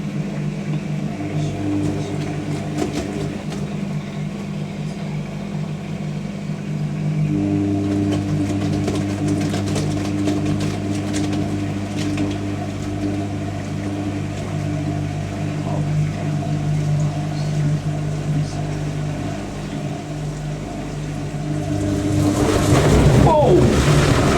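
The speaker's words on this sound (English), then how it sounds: "this is fourth and final intermediate spin" A Zanussi TJS1397W Jetsystem Excel 1250 top-loader washing machine on its fourth and final intermediate spin, with a loud, steady motor hum that swells and grows more violent toward the end.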